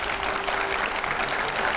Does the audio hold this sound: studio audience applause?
yes